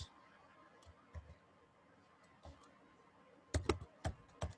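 Python code is typed on a computer keyboard in a quiet room. Faint, scattered key clicks turn into a quicker, louder cluster of taps near the end.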